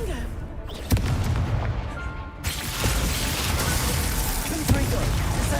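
Confringo fire explosion spell cast in a Harry Potter wizard video game: a sharp boom near the start, a second burst midway, then a sustained roaring wash of noise with another thump near the end, loud and close.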